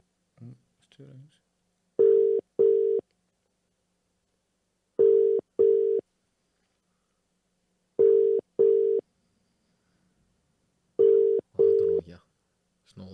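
A mobile phone call rings out before going to Vodafone voicemail: four evenly spaced UK-style double rings, each pair of tones about three seconds apart, clear and alone, with brief muffled sounds at the start and end.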